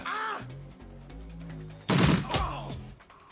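Pistol shots in the Shadowrun Returns game, a sharp loud burst near the middle followed by a second softer report, over a low droning game score.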